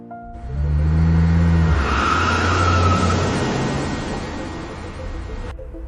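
Luxury wedding cars roll up one after another, engines revving loudly close by with a rising rush of acceleration and tyre noise, fading slightly as they settle.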